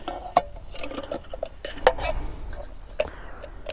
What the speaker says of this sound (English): That's the lid of the cooking system.